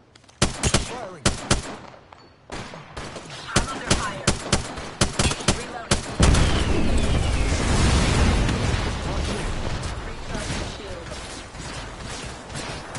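Gunfire in Apex Legends: a string of sharp, separate shots spaced irregularly, then a sustained heavy barrage with booming impacts that fills the rest of the clip, loud and close.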